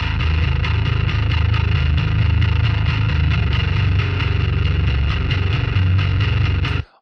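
Distorted bass guitar on a Carved Distortion preset with an STL Wool Putney setup plays a thick, gritty, rhythmic line of evenly pulsing notes that stops cleanly at the end, with no voices.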